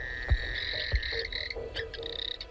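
Chorus of frogs croaking at night along the South Alligator River in Kakadu during the wet season, with dense overlapping calls and repeated trilling notes, plus two deeper thumping croaks up close early on.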